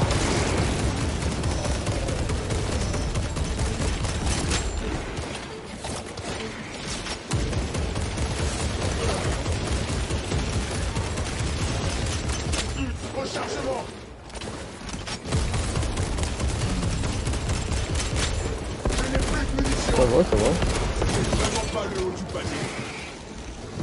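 Sustained heavy gunfire from Warhammer 40K Space Marine 2, with bursts of rapid shots, mechanical clanks and booms continuing loudly with brief lulls, while voices speak intermittently over the combat.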